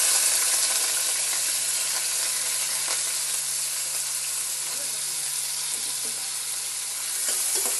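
Onions and curry leaves sauté in hot oil for an Andhra-style mutton liver gravy, a steady close sizzle running throughout with soft stirring scrapes layered over it.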